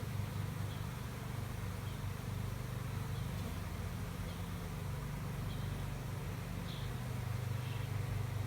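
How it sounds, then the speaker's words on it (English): A honey bee swarm hums steadily around a swarm trap outdoors, a thick, constant drone from many bees that stays at an even level throughout, with no speech. "That's a lot of bees."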